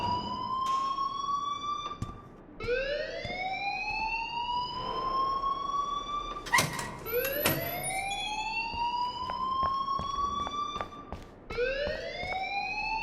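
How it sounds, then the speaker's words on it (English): An alarm in the Life Is Strange video game wails in repeated rising sweeps, each tone climbing and holding before restarting, loud and insistent, with a few sharp clanks breaking in midway. "please turn off that alarm since that's your job"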